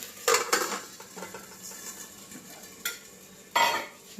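A pan on the stove in a Kerala home kitchen, holding a thorans of thazhuthama leaves and jackfruit seeds, is covered with a lid, giving a few sharp metallic clatters over a faint background sizzle.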